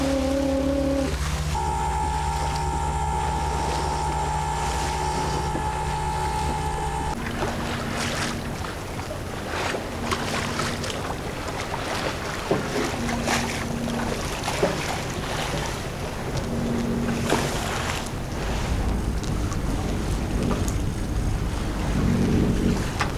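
A 40 m schooner sailing yacht under engine power makes a continuous rushing wash of wind and water over a low steady hum, with faint clicks and occasional tonal beeps.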